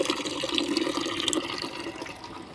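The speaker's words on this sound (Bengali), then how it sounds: "দেখো গাছে জল দিতে আসলাম।" Water pours steadily onto sun-dried vegetable plants, including eggplants, in a garden, a continuous close splashing and gurgling rush with no talking.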